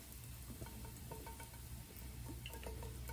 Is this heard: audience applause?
no